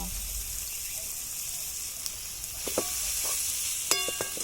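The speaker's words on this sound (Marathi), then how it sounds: "छान हलवून घेतो" Cabbage bhaji sizzles quietly in a pan as it is stirred, with a constant frying hiss and a few sharp scrapes and clinks of the spoon against the pan near the end.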